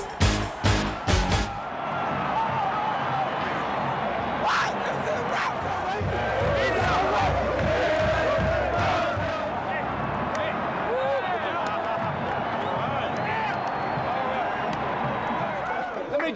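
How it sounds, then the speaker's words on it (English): Iowa Hawkeye football fans celebrate inside the Metrodome after a 2002 win over Minnesota, a dense, steady roar of crowd noise with scattered shouts and sharp bangs near the start, continuing throughout. "Elated Hawkeye fans celebrated in the Metrodome"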